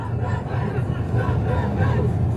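Large crowd at a rally beside the Liver Building on the Mersey waterfront in Liverpool, a loud sustained roar of massed voices with rising surges of chanting and shouting throughout.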